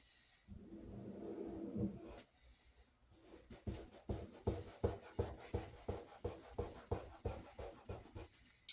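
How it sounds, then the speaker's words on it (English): A tool burnishes a wet line of paint on paper, giving a run of soft, rhythmic scraping strokes at close range after a brief pause, with quieter rubbing earlier on and no voices. "What I'm doing is I'm burnishing in the actual line of coat paint, basically."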